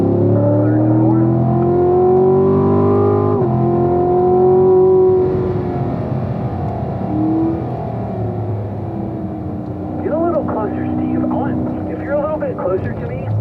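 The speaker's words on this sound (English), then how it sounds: "Accelerate all the way up the straight. Third and fourth." A Corvette accelerating up the straightaway on the Spring Mountain race track, its engine loud and steady with rising gear tones through third and fourth, while an instructor talks throughout.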